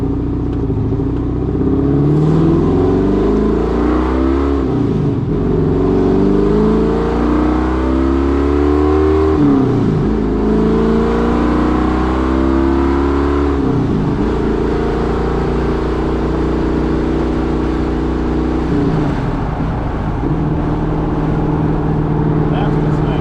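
A 1979 Pontiac Trans Am engine under way, droning loudly inside the car as revs climb and drop sharply at each gear change, settling into a lower, quieter cruise after the final shift.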